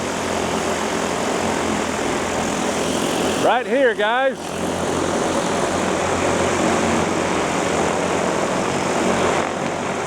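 Propellers of a DJI FlyCart 30 delivery drone hum loudly and continuously outdoors at close range, with someone talking over the steady drone noise.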